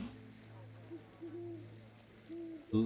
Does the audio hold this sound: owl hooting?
yes